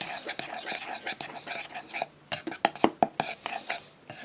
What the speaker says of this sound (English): we are going to just give this a little rough stir